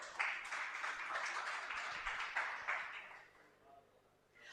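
An audience at a conference talk applauds in a short, moderately loud burst of clapping that fades out after a few seconds, with a voice speaking over it.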